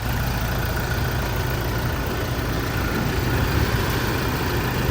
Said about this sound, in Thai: ทีเดียวสตาร์ตติดครับ เดี๋ยวมาฟังเสียงเครื่องกันเลย